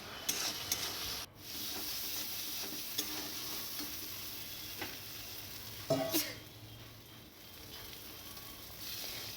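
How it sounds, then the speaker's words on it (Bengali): Spice paste with chilli powder is stirred and fried in a pan, giving a low steady sizzle broken by scraping strokes and a few louder knocks against the pan, close and fairly quiet. "ভালো করে কষিয়ে নিচ্ছি"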